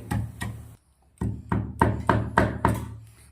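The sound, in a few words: grinding cumin and chillies for rasam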